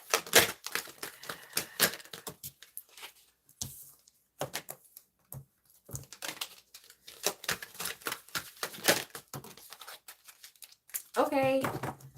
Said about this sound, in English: Let me shuffle this deck better.